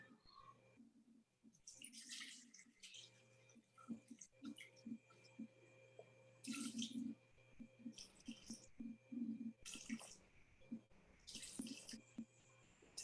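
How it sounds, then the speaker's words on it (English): Water poured into a mixing bowl, a measured 180 grams of water for a baking recipe; soft trickling and dripping splashes come in uneven bursts, fairly quiet and close, with no talk. "180 grams of water, which I've got here."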